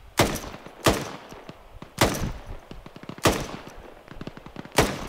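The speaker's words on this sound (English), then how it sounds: "Suppressive fire. Suppress." Bursts of M249 machine gun suppressive fire in ArmA 3, five loud short volleys spaced about a second apart with quieter scattered shots between them.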